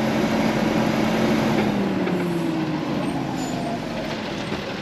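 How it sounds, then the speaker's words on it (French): A garbage truck in the distance gives a steady, broad engine rumble with a slowly sliding drone, continuous and fairly loud throughout, with no speech. "Ce qu'on entend là-bas, c'est le camion de poubelle."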